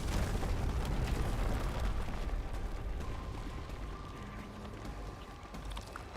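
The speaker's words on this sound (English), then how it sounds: "The key is to run right after the explosion." A video game explosion in Arknights Endfield, a loud rumbling blast that dominates the opening and then decays into a long, noisy roar with no talking.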